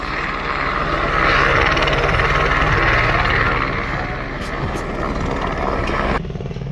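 Helicopter on the Kedarnath trek route, heard from a nearby tent camp as a loud, continuous rotor drone with a steady chopping throb that lasts about six seconds and then abruptly drops away.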